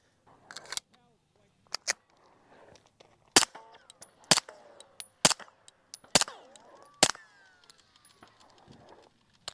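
Suppressed handgun fired about eight times at irregular intervals, each shot a sharp, loud crack with a short ringing tail, separated by quiet gaps with faint background sounds and some brief low talk.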